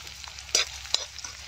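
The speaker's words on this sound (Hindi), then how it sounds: "प्याज को करते हैं ब्राउन अच्छी तरह से।" Onion frying with cumin in mustard oil in a home kitchen. A soft steady sizzle is broken by two or three quick scraping stirs of the pan, close and fairly quiet.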